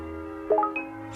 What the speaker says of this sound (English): 7 bells in the tower.